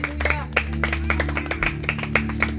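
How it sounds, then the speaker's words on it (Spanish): A church congregation clapping hands in praise, a quick regular rhythm of sharp claps over sustained music and low organ-like tones, fairly close. "a su nombre dele palmas a Cristo"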